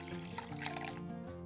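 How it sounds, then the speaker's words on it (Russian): Warm milk and water pour into a bowl of beaten eggs, a brief soft liquid trickle over steady background tones. "Сюда же наливаем 300 мл теплого молока и 300 мл воды."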